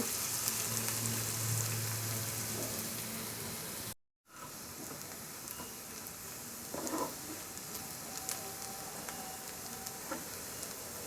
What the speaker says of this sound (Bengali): পেঁয়াজটা হালকা বাদামি রং হওয়া পর্যন্ত ভেজে নেব